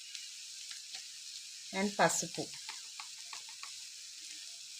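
Bitter gourd frying with chili powder being stirred in, a steady soft sizzle throughout with a brief burst of stirring and a short spoken word partway through.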